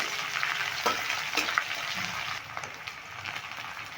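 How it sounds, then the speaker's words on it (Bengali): Finely chopped onions fry in a pan, giving a steady, close sizzle with occasional sharper crackles and stirring scrapes, and no talking over it. "পেঁয়াজ দিয়ে নেবো একটু ভেজে নেব"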